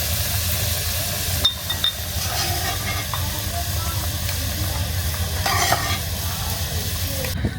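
Sliced potatoes sizzle and hiss in hot oil in a pan during an outdoor village cook-up, with steady frying noise and a few sharp clinks as a utensil stirs them.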